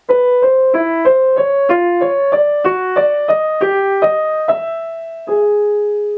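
Piano plays the alto part of Rachmaninoff's Prelude Op. 32 No. 1 in a steady triplet rhythm, a mid-range inner voice moving in even groups of three, clear and fairly loud with no talking.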